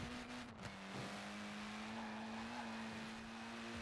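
1980 Renault 5 Turbo in a racing game accelerating out of a corner, a steady nasal engine tone holding and slowly climbing with a faint tire scrub near the start, moderately loud and alone.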